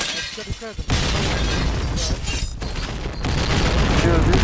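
A bomb going off in a shooter video game, heavy booms and shattering bursts amid gunfire, loud and sustained, with players talking over the action.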